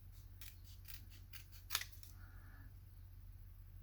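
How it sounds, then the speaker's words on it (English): Scissors snip at the corners of a paper envelope, a quick series of crisp cuts with one louder snap, close and alone in a quiet room. "I want to cut the corners and cut it a little shorter here"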